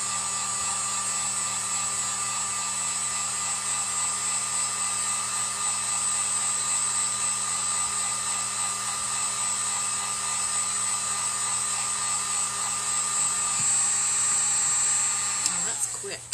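A hair dryer blows steadily at close range, drying ink on a stencil with an unbroken whining hum that runs the whole time before clicking off at the very end.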